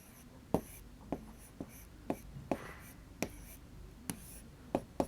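Chalk taps and scratches on a board during a class 3 maths lesson, about a dozen crisp, evenly spaced strokes with faint talk underneath.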